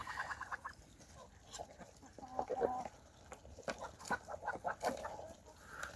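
Young chickens, including white and black hens, cluck and murmur in irregular bursts around a feeding trough, moderately close, with scattered short calls over a quiet farmyard background.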